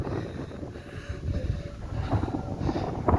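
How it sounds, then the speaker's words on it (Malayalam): Strong wind buffets the microphone on an open rocky hilltop, a continuous low rumbling roar that swells and eases in gusts. "കാറ്റുകൊണ്ട് കേൾക്കാൻ വയ്യ പറയുന്നതൊന്നും കേൾക്കാൻ പറ്റില്ല"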